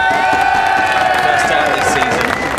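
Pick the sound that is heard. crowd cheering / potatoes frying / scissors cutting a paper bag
crowd cheering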